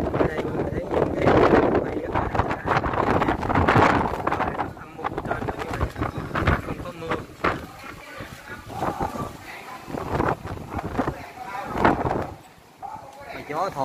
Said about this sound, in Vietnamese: gió thổi thì thổi hù rồi